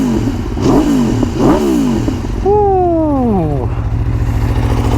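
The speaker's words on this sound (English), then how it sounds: "Let's get a rev going." A sportbike motorcycle engine revved hard several times, sharp rising and falling blips followed by a long high-pitched wail that sweeps down, loud and close.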